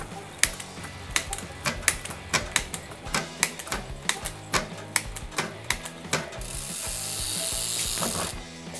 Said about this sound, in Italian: Lasciate stare il rumore perché è il disco storto, perché ha preso una pacca.